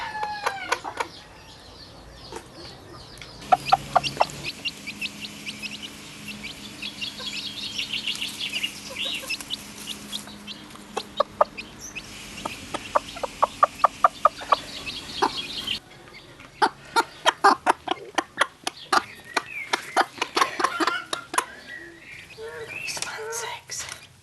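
Backyard chickens make excited clucking food calls, bursts of quick clucks that grow denser toward the end, close by, with a soft voice talking in places.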